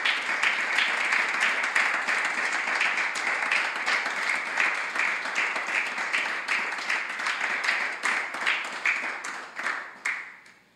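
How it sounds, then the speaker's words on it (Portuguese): An audience at a church music workshop claps for over ten seconds, dense sustained applause that stays loud and then thins out and fades near the end. "Vocês podem bater palmas para Jesus?"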